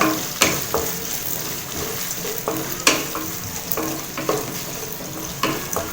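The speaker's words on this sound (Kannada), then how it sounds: "ಈರುಳ್ಳಿ ಹಸಿ ಸ್ಮೆಲ್ ಹೋಗಬೇಕು, ಅಲ್ಲಿವರೆಗೆ ಚೆನ್ನಾಗಿ ಬಾಡಿಸ್ಕೊಳ್ಳೋಣ" Finely chopped onions sautéing in hot oil for a snake gourd curry, a steady close sizzle broken by intermittent scraping stirs of a spatula against the pan.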